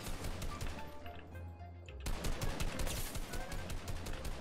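Gunfire in a shooter video game: a burst of close rapid shots is followed, after a brief quieter gap, by sustained loud automatic fire with crackling impacts, and no talk.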